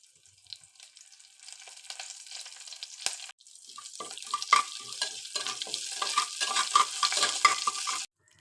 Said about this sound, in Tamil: இப்போ கொஞ்சமாக ஆயில் ஊற்றிக்கலாம். சீரகம், வரமிளகாய் அப்படி போட்டுருங்க.